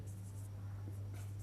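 Marker or chalk writing on a classroom board during an English grammar lesson, a soft continuous scratchy stroke sound over a steady low electrical hum, close and fairly quiet.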